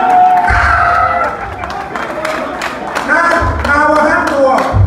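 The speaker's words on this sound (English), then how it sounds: "Clap for yourself." A live-show audience in Ghana claps and cheers in a loud, dense wash of crowd noise, with shouts and voices rising and falling throughout and a few thumping bursts.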